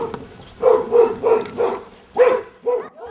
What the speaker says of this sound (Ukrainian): Тут собаки всі.